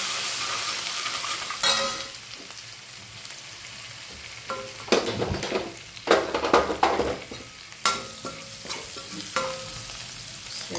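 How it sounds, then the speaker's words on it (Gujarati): A spoon scrapes and stirs coriander-cumin powder and salt through hot oil in a frying pan. The strokes are irregular and close, some louder than others, over a low steady sizzle. "ધાણા જીરું, મીઠું પણ એડ કરી દઈએ, સરસ મિક્સ કરી દઈએ."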